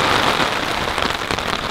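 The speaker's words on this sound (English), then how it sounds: "Raining. Another day in paradise." Heavy rain falls steadily on surfaces at a wilderness camp, a dense, close hiss of countless drops with no break and no voices.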